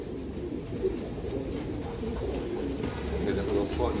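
Soft, low cooing of Chandarkhani pigeons repeats through steady background noise, with faint voices and rustling nearby.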